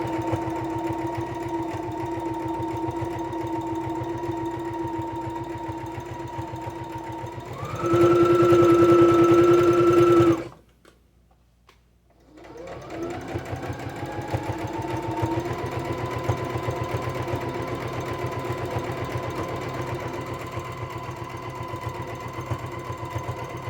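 A sewing machine stitching an apron strap runs in a steady mechanical hum, speeds up briefly to a louder whir, stops for a moment's silence, then resumes its even running drone to the end.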